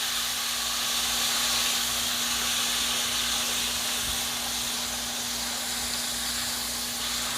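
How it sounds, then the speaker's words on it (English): Peppers and onions stir fry in a hot pot, a loud, steady sizzling hiss that fills the space without a break, close by and with no talking. "We're just gonna add this in, and we're gonna stir fry."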